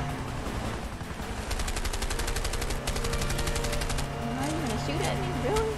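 Rapid gunfire bursts from the video game A Way Out, a fast rattling run of machine-gun shots in the middle of the clip over steady game background, with a voice speaking over it.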